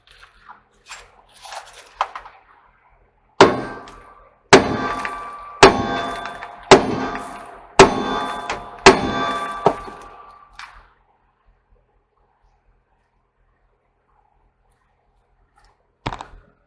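A large hammer clangs against a rusted bolt on the broken leaf spring of a silo trailer: about seven loud, ringing metallic strikes in steady succession, then a pause and one last isolated blow.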